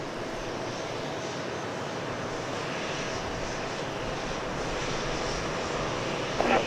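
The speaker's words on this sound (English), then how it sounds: "We're waiting for the arrival now of Flight 2318 from Phoenix, a 737-700." A Boeing 737-700 on flight 2318 from Phoenix arrives at Dallas Love Field, its engine roar a steady broadband rumble that holds level throughout and swells slightly near the end, with no voices.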